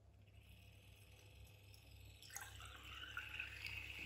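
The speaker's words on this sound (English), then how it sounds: "See, my friend, how well it can stir the water very well." A homemade magnetic stirrer spins in a glass of water, a faint low motor hum under soft swirling liquid that grows louder and splashier midway as the stirring speeds up.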